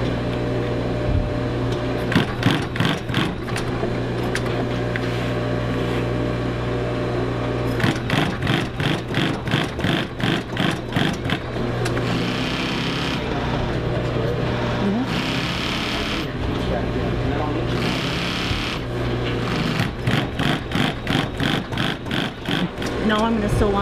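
A sewing machine stitches reinforcement onto a Duluth Pack, running in repeated rapid bursts of chattering needle strokes, with a steady workshop hum and brief pauses between the runs.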